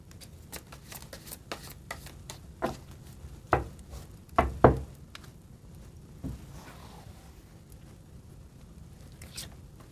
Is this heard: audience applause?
no